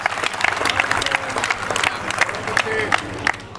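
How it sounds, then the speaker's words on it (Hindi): An audience at a Hindi comedy poetry recital claps to welcome the poet Dr. Aditya Jain to the stage, brisk crowded applause with scattered cheers and murmuring voices underneath. "एक बार दोनों हाथ उठाकर जोरदार तालियां बजाएं डॉक्टर आदित्य जैन आपके लिए"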